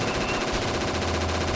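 Continuous rapid gunfire from the PSVR shooter Operation Warcade, played with the PS Aim controller, fills the short stretch as a dense, steady automatic burst with no pauses.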